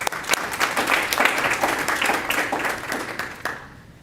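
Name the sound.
audience clapping at board meeting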